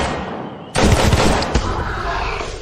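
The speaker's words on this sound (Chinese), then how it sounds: "这是枪声" Gunfire in an animated story bursts out suddenly after a quiet moment, a loud close volley of rapid shots followed by another sharp crack.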